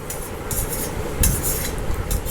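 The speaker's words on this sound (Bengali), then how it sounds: "অনেকটাই কিন্তু আমার বটবটি আর আলু কিন্তু ভাজা হয়ে গেছে" Potatoes and borboti beans frying in a pan over a low-to-medium gas flame for chowmein give a steady, close hiss broken by scraping and clinking from stirring utensils.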